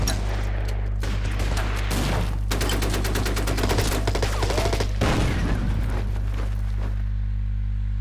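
Sustained battlefield bombardment from the WW2 strategy game Order of Battle: dense rolling gunfire and booming shell impacts over a constant low rumble, loud and continuous for most of the stretch before cutting off near the end.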